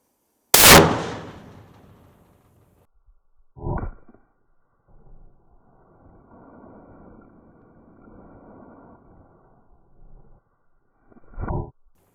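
A .50 caliber sniper rifle fires one sharp, very loud shot at a concrete highway barrier, the blast decaying over a second or two, followed by scattered distant thumps and faint rumbling.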